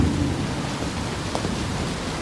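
Heavy rain pours at a crime scene, a dense steady hiss with low thunder rumbling underneath, no voices.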